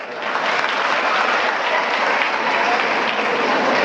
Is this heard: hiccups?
no